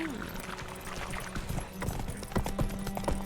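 Roach, a horse in The Witcher, trots with steady clip-clop hoofbeats alongside game ambience and music, with a voice talking over the steps.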